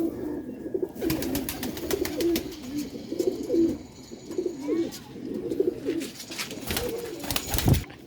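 Pigeons from a rooftop breeding loft coo in repeated soft, throaty phrases close by, with scattered clicks and wing or handling noises in between.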